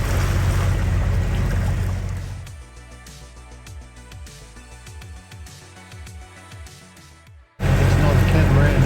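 A sailing catamaran motors at sea on its port engine in light wind, its engine hum rising and falling beneath loud bursts of wind and water at the start and end.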